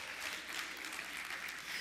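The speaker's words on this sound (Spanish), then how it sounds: "Un aplauso a mi mamá." Audience applause at a Spanish-language talk on parents, children and work: a continuous, even wash of many hands clapping, fairly distant and soft, with no voices rising above it.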